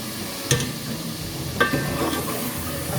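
Mutton bhuna in a pot over a low flame gives a steady, close sizzle, with two distinct spoon scrapes against the metal.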